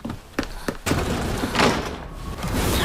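A door opens inside the horror video game Silent Hill f, heard as a few close, hollow knocks and thuds over a dense, rumbling ambient background.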